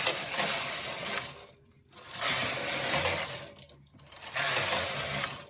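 A knitting machine carriage slides across the needle bed knitting rows, three separate rasping, clattering passes of about a second and a half each with brief silences between them, close and fairly loud.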